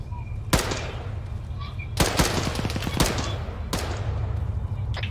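Video-game gunfire crackles across an open rocky slope as a squad engages a shooter up in the rocks: a few sharp distant shots punctuate steady background noise, with voices talking over the action.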